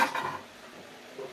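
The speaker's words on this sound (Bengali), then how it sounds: "দিয়ে আমি এটাকে খুব ভালো করে নাড়াচাড়া করে নেব" Peanuts are stirred into sugar syrup in a pan for Bengali badam katuli. A short scrape and clatter of a spoon against the pan sounds up close and fades quickly, then comes a faint second touch.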